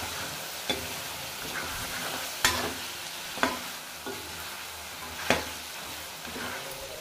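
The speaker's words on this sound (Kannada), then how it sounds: "ಈಗ ಇದನ್ನು ಮಿಕ್ಸ್ ಮಾಡ್ಕೊಳ್ಳೋಣ." Chicken gravy with dill and other greens being stirred and fried in oil in a pan, with a soft continuous sizzle and a few sharp spoon knocks against the pan.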